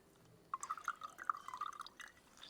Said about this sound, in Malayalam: അപ്പോൾ നാരങ്ങ നമുക്ക് ഒഴിക്കാം